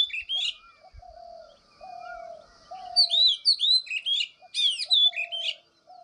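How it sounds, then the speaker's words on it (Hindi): Various birds call around a village garden in the Uttarakhand hills at about eight in the morning: a repeated low cooing note under clear, sharp chirps and trills, some close and loud, with short quiet gaps between phrases. "बहुत सारी चिड़ियाँ हैं हमारे बगीचे के आसपास"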